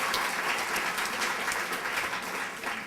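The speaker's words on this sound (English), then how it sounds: "Let's give them a round of applause, all the performers." An audience at a gala performance and award ceremony applauds the performers and chorus with thick, continuous clapping that stays loud throughout the short stretch.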